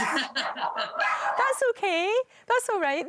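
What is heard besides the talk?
dog barking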